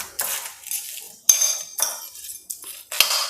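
A spoon stirs curd rice mixed with milk and yogurt, a festival offering, with repeated close scraping and clinking against a vessel in short bursts.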